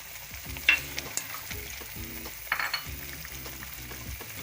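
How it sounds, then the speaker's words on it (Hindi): Whole spices sizzle steadily in hot oil for a white chicken karahi, with a few sharp clinks and scrapes of stirring rising above the continuous frying hiss. "ये मसाला है, खड़ा मसाला, ये भूनना है, इसको डाल दो।"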